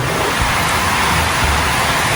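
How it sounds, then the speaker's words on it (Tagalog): Heavy, unceasing rain pours down in the late afternoon around a hut, a dense, steady wash of hiss that fills the whole short clip without letup, close and loud with no voices over it. "talagang wala pong tigil ang ulan."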